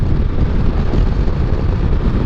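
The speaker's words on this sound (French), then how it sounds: "on l'entend hein, le vent" Loud, constant wind buffeting roars across the microphone while riding a Suzuki V-Strom 800 DE motorcycle, a dense, unbroken rush with no voices.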